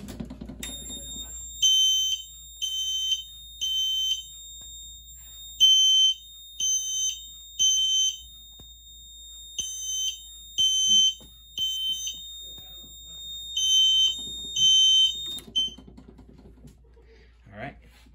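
A Fire-Lite MS-5012 fire alarm system sounds after a pull station is activated, giving loud, repeated high-pitched electronic horn bursts in a steady temporal pattern over many cycles, with faint background noise and brief speech between.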